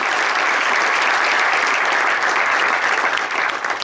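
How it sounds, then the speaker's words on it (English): A large audience at a book release event applauds steadily and loudly for nearly four seconds, the clapping thinning slightly at the end. "a huge round of applause to General Rawat for taking time out."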